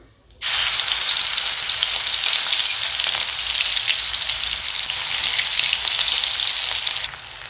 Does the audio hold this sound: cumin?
yes